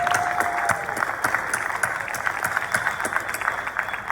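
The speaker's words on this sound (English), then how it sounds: "let's give all of the special awardees another round of applause for all of them" An audience at a university engineering academic awards ceremony gives another round of applause for the special awardees: sustained, crowded clapping with sharp individual claps popping out of the dense patter throughout.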